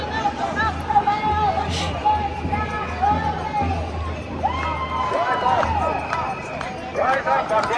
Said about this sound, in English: The crowd has now built up a bit